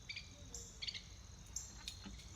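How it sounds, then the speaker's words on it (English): Noisy birds in a backyard give a few short, high chirps and calls spread over a couple of seconds, faint and fairly close against a quiet background. "Got some noisy birds in our yard"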